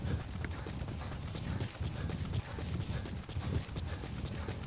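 Horse hooves clip-clop steadily in Metal Gear Solid 5: The Phantom Pain, set in Afghanistan, a continuous close rhythmic clatter filling the whole stretch with no talk over it.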